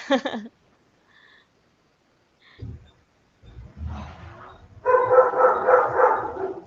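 A dog barks during an online call, coming through the call audio as a few muffled yaps. Rougher barking or growling follows and builds louder toward the end, with no clear talking over it.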